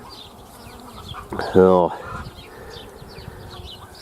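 Honey bees buzz around a thriving spring hive in a low, continuous hum, with a brief louder tonal burst in the middle and a voice speaking briefly.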